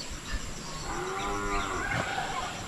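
A water buffalo (carabao) lets out a single drawn-out low moo. It sounds fairly close, over a steady outdoor background hiss with no talking.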